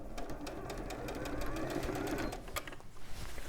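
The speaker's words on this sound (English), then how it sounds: "just removing those clips as we sew." Sewing machine stitching a bag, its steady whirring hum running close and continuous with clicks as pins are pulled, while a voice talks over it.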